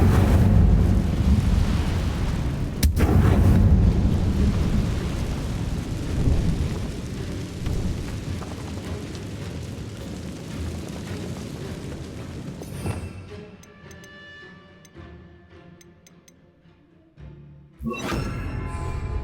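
A Bombarda blasting spell from Hogwarts Legacy on Nintendo Switch erupts in a loud, deep explosion that rumbles on and slowly fades, with a second burst near the end.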